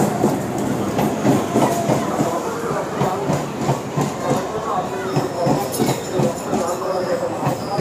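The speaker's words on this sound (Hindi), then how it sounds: "भाई पता है ट्रेन आ रहा है" A train pulls into a station with continuous rumbling and clattering wheels on rails, loud and close, while people talk nearby.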